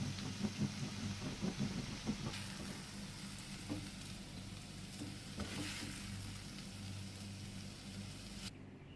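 Bitter gourd stir fry sizzling and crackling steadily in a hot pan on a gas flame, with a few stirring clatters early on and a continuous frying hiss throughout.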